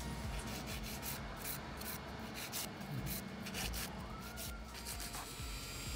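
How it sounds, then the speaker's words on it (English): A nail file rasps over gel nails in quick repeated back-and-forth strokes, a dry scratchy scraping that stays close and fairly quiet throughout, with nobody speaking. "So we're filing at the moment."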